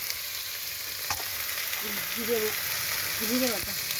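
Cumin and ginger paste with spices sautéing in a pan for a soybean dish, giving a continuous close frying hiss with stirring scrapes; faint tonal squeaks or voices rise briefly in the background.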